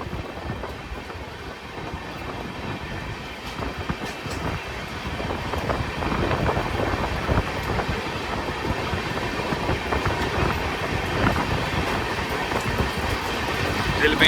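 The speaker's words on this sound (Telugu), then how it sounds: "ఇది పలాస విశాఖపట్నం మెమో ట్రైన్ అనమాట." A Palasa–Visakhapatnam MEMU train runs past with a steady rumble and rattle of wheels on track that grows louder and closer over about fourteen seconds.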